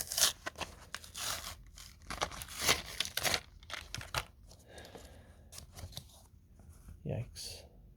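Someone tears and crinkles stiff plastic and cardboard packaging off a Disney Pixar Cars toy, with sharp close rips and crackles in bursts that fade into lighter rustling, and a squeak near the end.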